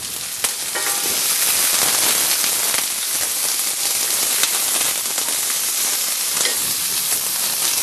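Onions crackling and sizzling steadily in a hot pan, a dense, loud, continuous spitting hiss with sharp pops scattered throughout, no talking.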